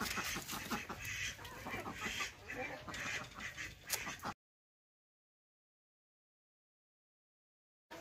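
Ducks let out in the morning quack and chatter in a short, busy burst of close calls, which stops abruptly into silence.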